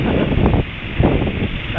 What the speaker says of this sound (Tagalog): Grabe lakas ng hangin, no?